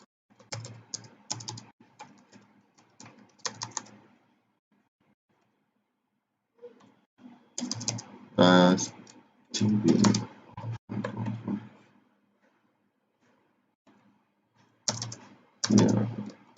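Bursts of typing on a computer keyboard with quick clattering keystrokes in several separate runs, separated by pauses, close and fairly loud.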